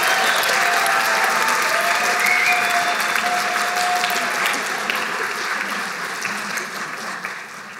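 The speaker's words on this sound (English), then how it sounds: "A big round of applause for a big group, the psychiatric nursing graduates of September" A graduation ceremony crowd applauds the September psychiatric nursing graduates, a strong, full burst of clapping that holds steady at first and gradually fades over several seconds.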